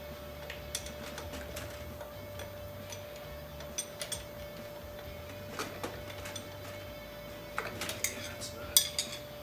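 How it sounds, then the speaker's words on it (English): A screwdriver works at a fuel line fitting on a Holley 770 Street Avenger carburetor, making a few faint metallic clicks and scrapes against a quiet background hum. "I'm just gonna put this screwdriver on the flat and hope it's gonna hold in place"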